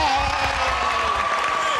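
Brisk studio audience applause on a 1984 game-show set, a dense steady clatter of clapping that fills the whole moment at close range, with a faint sustained tone running beneath it.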